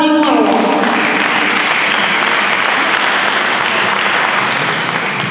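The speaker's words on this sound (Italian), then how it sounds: "Un applauso di nuovo." Sustained audience applause fills a hall at an Italian solidarity award ceremony in Rome, a dense, steady wash of many hands clapping at full loudness from start to finish, with a voice briefly audible at the very start.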